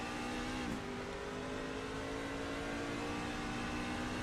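Onboard engine of a race truck on the Sonoma road course in iRacing, a steady loud drone holding a high pitch, with a brief dip and gear change early on, then sustained revving at constant distance.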